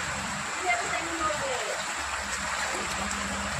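Steady rushing of rainwater streaming and splashing nearby in Thiruvarangam, flowing back with nowhere to drain, a constant hiss with faint voices in the background.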